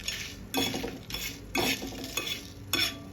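Spices and grated coconut are stirred as they fry in a pan for veg Kolhapuri, a quiet, repeated scraping of a spoon against the pan at a regular rhythm over a faint sizzle.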